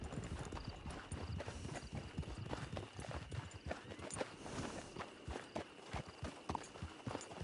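Horse hooves clip-clopping at a steady walking pace on the ground in Red Dead Online, close and continuous, with occasional soft snorts and ambient game sounds underneath.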